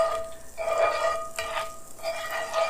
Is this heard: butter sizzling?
yes